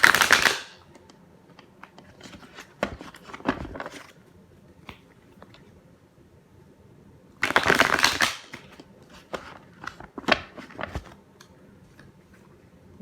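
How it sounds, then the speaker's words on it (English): Tarot cards shuffled by hand in bursts: a dense riffling rush at the start, scattered soft flicks and taps through a quiet middle, then another sustained loud shuffle followed by a few sharp card snaps, close to the microphone with no talk. "I'm going to take my big boy and shuffle these up and then pull some cards as well"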